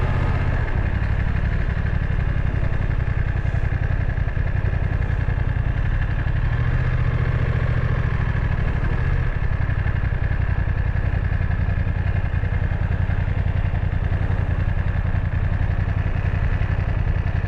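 A BMW F900 XR parallel-twin motorcycle idles steadily up close, a continuous low throbbing rumble with light mechanical clatter and no one talking.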